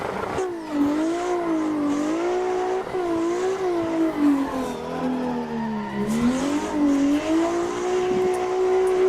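Car drifting on the Daggerfall drift track in Assetto Corsa, engine revs wavering up and down with sustained tire squeal as the car slides, loud and continuous.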